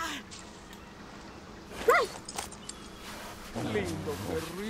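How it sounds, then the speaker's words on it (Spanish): A dog attacks in the video game Far Cry 6, with a sharp yelp and growling snarls breaking through moderate game ambience, followed by a louder scuffle near the end. "Mira, el perro, cómo ataca"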